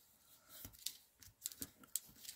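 Scissors snip through flexible conductive copper tape for a light-up card circuit, making several quiet, small, crisp cuts in quick irregular succession at close range.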